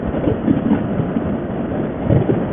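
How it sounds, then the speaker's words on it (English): A Kawasaki Vulcan 900 Classic LT motorcycle engine drones steadily with wind buffeting the microphone, a low rumbling roar that stays constant while riding along a road. "I'm getting used to hearing the sound of the engine"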